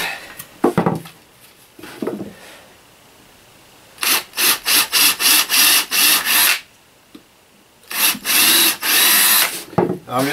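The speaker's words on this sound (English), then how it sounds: "I have to take this and pre-drill it." Power drill boring three pilot holes for screws through a wooden nailer strip for OSB in a tiny house living room wall; two long, loud, close bursts of whirring follow some earlier handling noise, with no talk.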